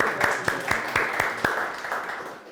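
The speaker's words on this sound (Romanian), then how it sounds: "Vă rog, și pe Cornel să aplaudați." An audience in a Romanian real-estate seminar claps for Cornel, a dense burst of applause with sharp individual claps standing out, loud and continuous for a couple of seconds.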